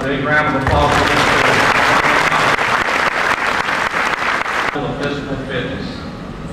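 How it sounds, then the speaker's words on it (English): Big round of applause from a school audience, loud and sustained clapping that fills the room for several seconds before tapering off as a voice returns near the end. "Let's have a big round of applause for the"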